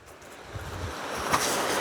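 Water rushing along a canyon creek near a bridge in Monrovian Canyon, Monroe, Utah, heard as a steady broadband wash that builds slightly, with wind noise and no talking.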